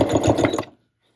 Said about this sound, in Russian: Беру следующую пару. И сшиваю.